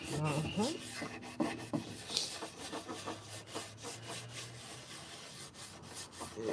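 Finish being rubbed by hand onto a wooden coffee table, a steady close scraping and swishing texture with irregular strokes, uneven in loudness, and no talking.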